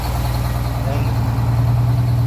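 A Detroit 6-71 two-stroke diesel idles loudly close by with one bad injector held down and cut out, its low throbbing drone steady and slightly rising, with a voice talking over it.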